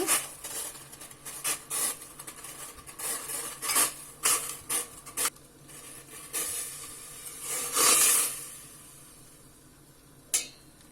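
Rose petals stirred in a pot of boiling water for rose jam, with repeated clinks and scrapes of a spoon against the pot over a low bubbling background and no talking.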